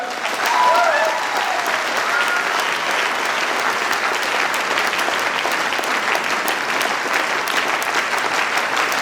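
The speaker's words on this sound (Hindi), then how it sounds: "एक बार बबीता आ जाओ स्टेज पे, एक बार ताली होनी चाहिए" A crowd at a motivational business speech breaks into sustained, even applause as Babita comes on stage, steady and loud from start to finish, with a brief voice early on.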